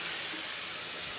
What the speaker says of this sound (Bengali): যেমন চিংড়ি মাছ ভাজা হচ্ছে